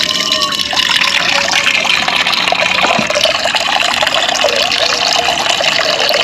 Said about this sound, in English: Just I get some water from a tank